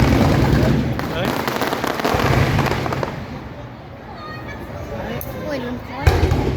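Fireworks explode at Ocean Park in a dense, continuous barrage of crackling pops and booms, with people talking and exclaiming throughout over the loud rolling bursts.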